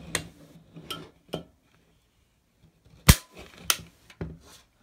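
A Beretta PX4 Storm 9mm Compact pistol is dry fired with a trigger gauge, giving sharp, close metallic clicks, a few lighter ones early and a louder crisp snap near the end, separated by silence.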